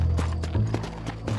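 Horse hooves clip-clopping in the Red Dead Redemption video game, a steady rhythmic series of close, distinct thuds over a low rumbling background.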